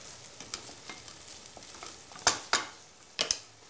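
Sausage and beans frying in a pan as paprika seeps from the sausage, a steady low sizzle with a few sharp scraping clicks of stirring near the end, close and without speech.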